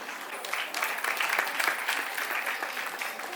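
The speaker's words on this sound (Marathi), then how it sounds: "वाजवा टाळ्या" Audience applause at an Arya Vaishya cultural gathering in Pune, a crowd clapping to congratulate and encourage participants; fairly soft, even clapping that swells slightly midway and continues steadily, with no talking over it.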